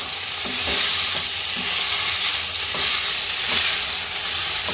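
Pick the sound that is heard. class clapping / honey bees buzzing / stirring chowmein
stirring chowmein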